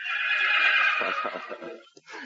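A horse in an old-time Western radio drama gives a long, loud whinny that breaks into a fluttering, trailing neigh and ends with a short snort.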